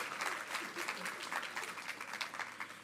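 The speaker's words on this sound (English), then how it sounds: "Everybody, big round of applause for Brownlee Primary School in Lisburn!" Audience applause breaks out at a children's book awards ceremony for a primary school from Lisburn, a dense, steady clapping that holds at an even level throughout, with a few voices mixed into the crowd.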